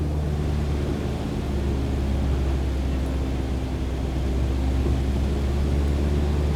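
Light aircraft engine in a flight simulator holding a steady droning hum as the throttle is eased back to 2,300 RPM, constant and even, with no voices.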